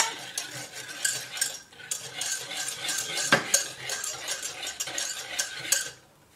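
A utensil is whisked and stirred through cake batter in a bowl in quick, steady strokes, with clinks against the sides. It fades out at the end.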